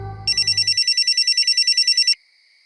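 A telephone rings in a rapid trilling electronic burst, loud and close, lasting about two seconds before cutting off into quiet.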